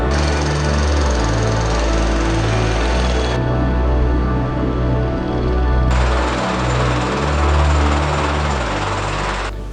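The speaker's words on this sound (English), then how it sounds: "tighten all the anchor bolts down with the impact" An impact wrench drives down the anchor bolts of a tornado shelter, loud rapid hammering bursts in close succession with brief pauses between them, no talk.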